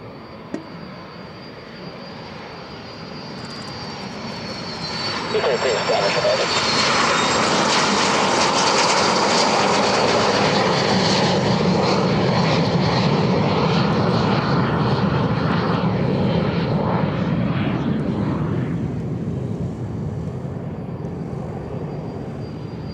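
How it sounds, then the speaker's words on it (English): Propeller-driven warbird aircraft make a formation takeoff at an airshow. Engines drone at first, then swell to a loud sustained roar as the planes pass and slowly fade into the distance, with no speech. "Departing here is a formation takeoff with 3 and 33 call established."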